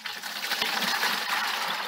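Seawater poured onto a kabocha squash field, a steady broadband splash and gush of liquid hitting soil, continuous and fairly close for the whole stretch with no talk.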